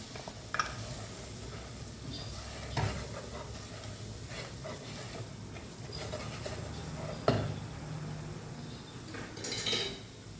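Onion frying in a pot sizzles softly as flour is added and stirred, with occasional knocks and scrapes of a utensil against the pot, quiet and without speech.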